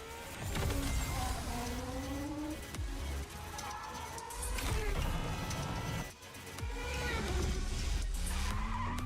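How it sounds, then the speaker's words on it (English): A car drifts through mud in the racing game The Crew Motorfest. A loud, continuous engine roar runs under repeated tire squeals and skids, with short dips in the noise as the car changes direction. "Drifting through mud"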